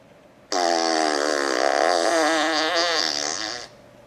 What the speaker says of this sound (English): selecting a fart here from this list and then clicking preview or execute